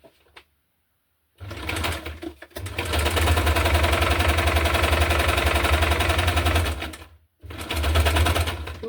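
A sewing machine stitches through the pages and pocket of a hardcover junk journal in two steady runs of rapid, even needle clatter, loud and close, separated by brief pauses.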